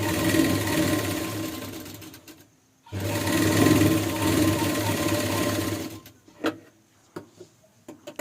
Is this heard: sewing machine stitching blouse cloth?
yes